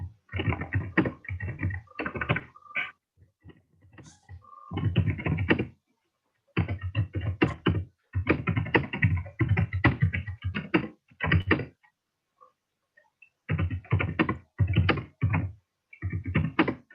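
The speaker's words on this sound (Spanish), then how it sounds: "¿podrían silenciar las pantallas para no oír el teclado?" Computer keyboard typing from an open participant microphone during an online professional ethics training session, heard as dense bursts of rapid clicking in clusters with short silent gaps, fairly close and continuous.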